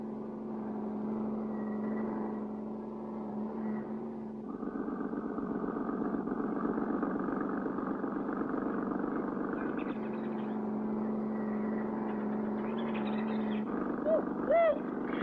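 A cartoon car engine hums steadily under a chase, its drone shifting pitch in stepped jumps, with voices talking over it.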